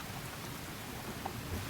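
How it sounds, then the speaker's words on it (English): Steady rain with wind in the Cabin Fever visual novel game, a dense, even hiss of falling rain with a low rumble beneath, continuous and fairly loud. "I love the sound of the rain and the wind"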